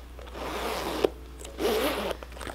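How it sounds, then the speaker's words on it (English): Smooth zip of a Louis Vuitton bag's zipper, two quick close pulls in a quiet room: a brief rasp near one second, then a longer, steady glide. "look how smooth that zipper is"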